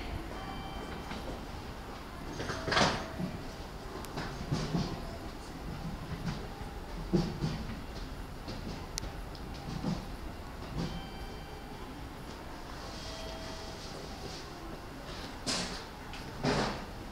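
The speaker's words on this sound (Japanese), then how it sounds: "まもなく3番線に普通久里浜行きが参ります。" A JR E217 series Yokosuka Line train at a Zushi Station platform gives a low, steady rolling rumble with scattered clanks and door thumps, heard from a moderate distance in an echoing station.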